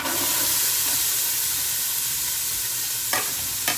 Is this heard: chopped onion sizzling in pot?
yes